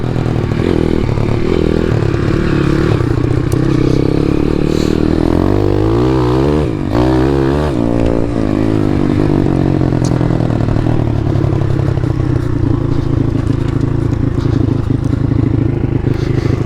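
A Jawa motorcycle with a YX 140 engine rides in second gear, its engine a loud, continuous close-up drone that rises and falls in pitch with throttle changes, with clattering and wind noise throughout.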